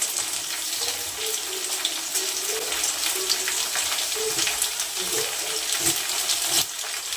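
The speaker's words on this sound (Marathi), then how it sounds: "चांगला असा तळून घ्यायचा फ्लॉवर." Cauliflower florets fry in hot oil for a Maharashtrian kurma, with a steady, bubbling sizzle running throughout and a few clinks from the pan.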